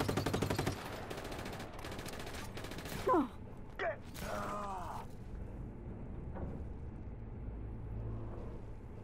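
Rapid automatic gunfire from the video game Just Cause 3 rattles out in a fast burst, followed by a couple of single loud shots and game effects over a lingering background rumble.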